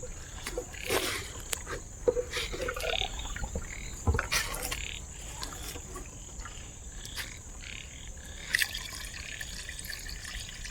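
Water poured into a pot of chicken biryani being cooked outdoors in a village kitchen, a steady liquid splashing and trickling with occasional drips over faint background insect and ambient noise.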